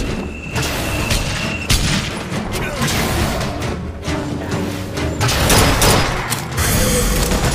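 In Bioshock Infinite, rockets fire and explode as a dense barrage of loud booms and blasts amid gunfire, with a voice talking over the chaos.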